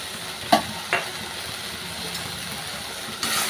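Coriander, cumin and turmeric powders hit a frying spice paste for an egg curry, with two quick stirring knocks early on, a soft sizzle in between and a louder burst of frying near the end.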